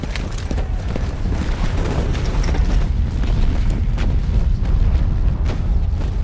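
Continuous WWI artillery barrage at the Somme, a dense, loud rumble of booming shellfire with scattered sharper blasts rolling on without pause for several seconds, no talk.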